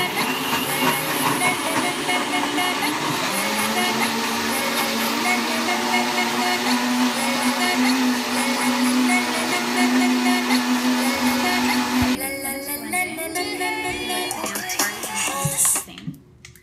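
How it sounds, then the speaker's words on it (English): A kitchen blender whirs loudly and steadily through a chunky monkey shake, its motor tone holding for about twelve seconds before shifting and winding down. "All right, blending time."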